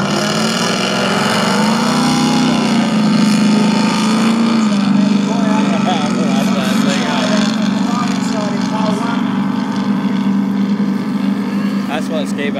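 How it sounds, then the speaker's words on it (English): Ski racing boats roar past on the water, their engines a loud, sustained drone with shifting pitch, while a commentator talks over the noise. "that's what ski boats sound like."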